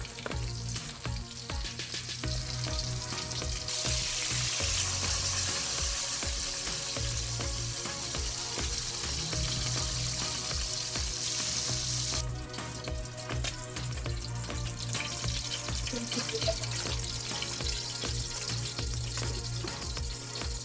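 Milkfish (bangus) frying in a pan for a silog meal, a steady loud sizzle with occasional stirring and spatter, close up and without talk.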